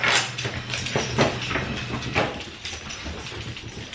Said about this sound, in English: I think it's really fun to see them coming through the dog door.